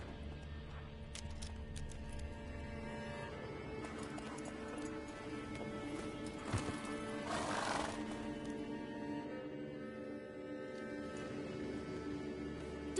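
Roach, the horse in a video game, moves with a soft, continuous patter of hooves, a brief neigh-like rush rising in the middle over a steady game ambience.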